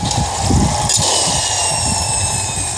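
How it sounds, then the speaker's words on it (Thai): Loud, steady mechanical rotor drone with rumbling low thumps and a high whine from a helicopter approaching in the video game Gangstar Vegas, continuous throughout. "เฮลิคอปเตอร์มาแล้ว"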